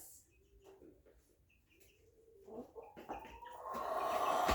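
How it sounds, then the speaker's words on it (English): Chickens cluck and coo softly in a quiet yard, with scattered bird chirps, before a rising rush of noise fills the end. "I'm gonna chase after the chickens."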